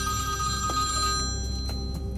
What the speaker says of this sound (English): There's the phone ringing, but don't answer it.